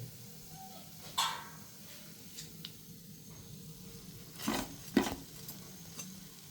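Onion vada (ulli vada) frying in hot oil, a soft steady sizzle with a few sharp clinks of a utensil against the pan, the brightest near the end.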